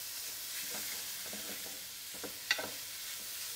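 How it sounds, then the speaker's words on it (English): Spices dry frying in a hot pan with a steady dry sizzle, soft scraping stirs and a brief sharp clink, close and continuous. "This is called dry frying."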